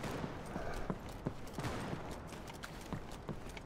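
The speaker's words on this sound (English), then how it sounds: "Klaus is shooting" Gunfire in a Battalion 1944 match, with repeated rifle shots cracking at irregular intervals over steady game ambience, fairly loud and close.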